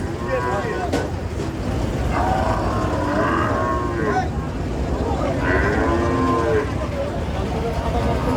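Cattle low repeatedly at a busy outdoor cattle market in Alamdanga, with several long moos rising over a dense crowd hubbub. The calls come from near and mid distance amid the market chatter.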